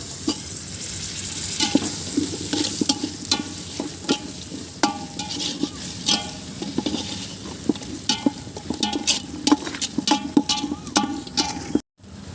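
Chopped potatoes go into a pan of ginger garlic paste for a mushroom biryani, with a steady sizzle under repeated sharp scrapes and clinks as the mixture is stirred.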